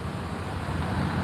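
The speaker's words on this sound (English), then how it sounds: "So they've got this car idling" A van idles at a roadside DUI checkpoint, a steady low engine rumble blended with broadband traffic and wind noise outdoors, holding at an even level.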